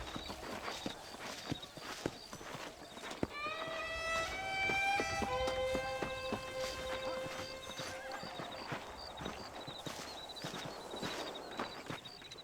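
Horse hooves clip-clopping at a steady walking rhythm in the Red Dead Redemption video game, with a loud whinny rising and falling in the middle, all fairly close and without speech.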